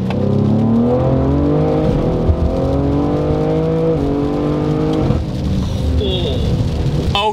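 A 700-horsepower Ford Explorer ST accelerates hard from inside the cabin, engine note climbing steadily through the gears with loud rising whine and a quick shift break near the end, a voice speaking briefly over it.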